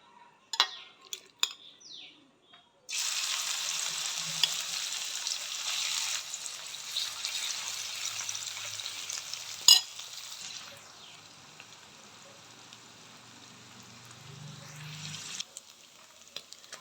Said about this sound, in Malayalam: മീൻ ഇപ്പം നന്നായി മുരിഞ്ഞ് വന്നിട്ടുണ്ട്.